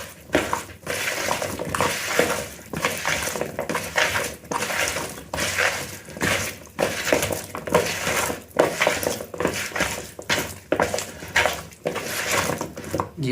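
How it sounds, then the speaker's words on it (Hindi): Flour and sesame batter is mixed with water in a bowl for homemade crispy French fries, giving repeated wet stirring, scraping and clinking strokes in a steady rhythm, close up, with no talking. "अब इसमें पानी डाल के इसको मैं मिक्स करूँगा।"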